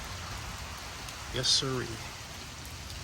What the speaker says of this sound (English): So it's raining, it's storming, but no wind.